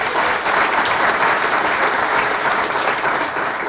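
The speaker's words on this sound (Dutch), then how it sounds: "Dus dit applaus dat zullen we doorgeven" Dense, steady audience applause at a Dutch STOWA water-sector presentation on pharmaceutical residues in wastewater, many hands clapping loudly and evenly throughout with no talk.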